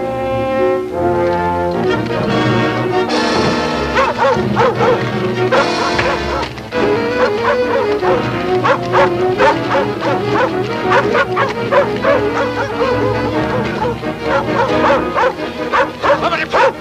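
A dog barks and whimpers in a film scene, loud yelps and whines sitting over a dense, continuous music score with no break.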